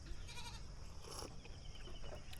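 Goats on a farm bleat faintly amid steady outdoor background noise, with a couple of short calls rising slightly above the general din.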